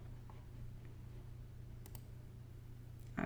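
A few soft, quick clicks from a computer keyboard as two digits are typed, faint and close against a steady low room hum, with no talking.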